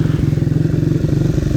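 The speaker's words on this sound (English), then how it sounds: "because it's on the hand throttle, I'm having to keep it revving" A 1920s hand-change motorcycle engine is held revving on its hand throttle, a loud, close, rapid rhythmic thumping with strong low pulses and a steady clattering beat that continues throughout.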